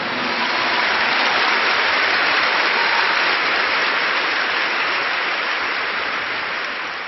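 A church congregation claps for the Lord during a bilingual English-Portuguese sermon, dense sustained applause, loud and even throughout before tapering slightly at the end.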